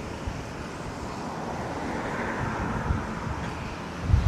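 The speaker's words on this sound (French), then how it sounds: "Oh, le vent." Steady low rumbling buffeting of wind hitting a microphone outdoors, continuous for several seconds with a slightly stronger gust at the end.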